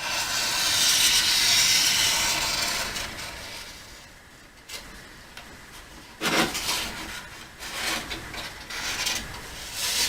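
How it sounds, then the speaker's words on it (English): A Sharpie marker tracing a deck shape onto pine board, heard as close, rough rubbing and scratchy strokes on wood, first one long hiss and then several shorter drawn strokes after a quieter gap. "I'm going to trace it out with a Sharpie"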